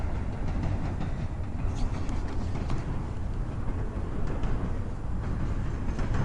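A loud, continuous rumble of a train rolling along the tracks, with a steady roar and faint rhythmic clatter throughout.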